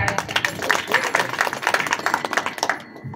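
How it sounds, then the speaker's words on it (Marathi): A small group claps in a quick, uneven patter for a few seconds before it trails off. "दोघांसाठी टाळ्या."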